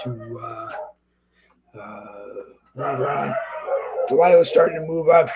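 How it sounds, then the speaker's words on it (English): Dogs bark in short bursts somewhere behind someone talking close up, the barking partly buried under his voice. "I apologize for the dogs barking in the background"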